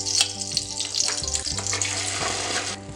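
A ground onion and tomato paste goes into a hot pan for paneer butter masala and starts to cook, giving a loud, steady sizzle and bubbling hiss with a few splattery bursts, close up and with no talking.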